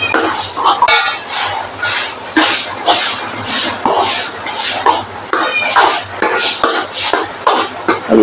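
A spoon scrapes and clinks against a pan while beetroot pachadi with ground paste is stirred, giving repeated close metallic knocks and scrapes in an uneven rhythm.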